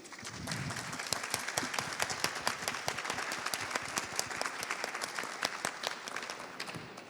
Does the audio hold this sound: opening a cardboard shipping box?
no